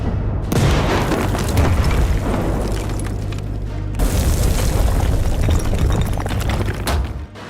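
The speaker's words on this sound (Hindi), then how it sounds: "बॉर्डर पार करके टैंकों से गाजा की ओर गोले दागे" Israeli tank guns fire shells toward Gaza. Deep booming blasts sound at the start and again midway, each followed by a sustained rumbling roar that carries through to the end, loud and without speech.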